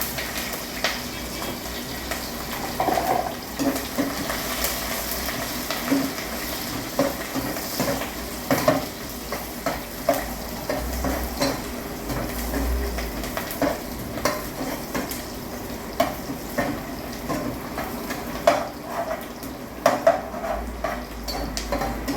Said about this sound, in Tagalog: ginisa na natin ang mga sibuyas, spice, chili, ahos